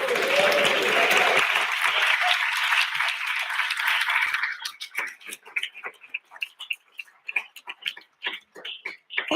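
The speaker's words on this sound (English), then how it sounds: "a very big round of applause for International Relations Office and for Media Department" An audience at a forum's closing ceremony gives a round of applause, loud and dense at first, then thinning into scattered individual claps that trail off.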